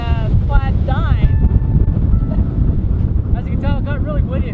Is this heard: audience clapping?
no